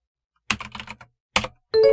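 Computer keyboard keys clack in two quick bursts of several presses each, separated by a short pause, followed by a brief synthetic tone at the end.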